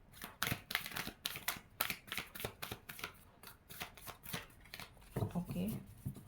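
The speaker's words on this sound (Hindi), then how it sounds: "My last shuffle." A deck of cards is riffled and shuffled up close in a quick run of sharp bursts, followed by a voice speaking near the end.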